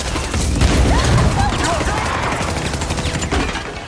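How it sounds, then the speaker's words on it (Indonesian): Rapid bursts of gunfire crackle and pop in a dense exchange from the film Taken 2, loud and sustained over a rumbling background, with some voice-like sounds mixed in. "hingga terjadi aksi tembak-tembakan."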